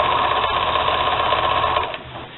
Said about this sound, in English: Not that it's very interesting watching someone sew seams.